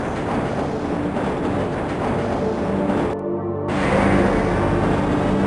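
A moving train in the video game Half-Life, a steady rumbling rattle with rhythmic clatter, loud and close, briefly muffled midway, then swelling slightly louder.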